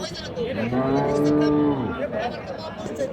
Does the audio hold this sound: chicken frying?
no